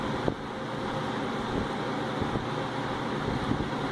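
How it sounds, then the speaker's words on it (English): A Galaxy 4733 electric fan, freshly cleaned, running steadily with a constant airy whoosh and low motor hum, close and moderately loud, with no talk. "I'm amazed at how much that motor's been through since I've got this fan."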